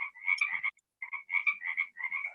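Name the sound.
frogs croaking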